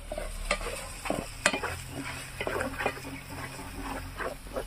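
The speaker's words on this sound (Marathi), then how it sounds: "व्यवस्थित फिरून घ्यायचं हे" Dry fish stirred with red chilli powder, turmeric and garam masala in a pan over a wood-fired stove, giving a steady scraping and soft sizzle with scattered clinks, close and moderately loud, with no talking.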